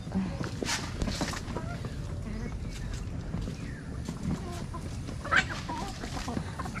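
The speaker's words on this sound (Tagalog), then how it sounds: "Ayan po ang mga manok." Hens clucking in short, soft bursts amid a busy farmyard, with people talking nearby.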